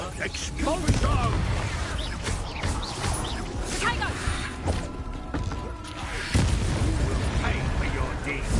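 An explosion spell going off in the game Hogwarts Legacy: booming blasts and crashing bursts, the strongest near the start and again later, amid constant game noise and a character's voice speaking.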